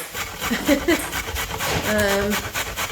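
A dog pants rapidly and steadily close by in a kitchen while a weeknight veggie stir fry is prepared, with a brief whimper-like tone near the end.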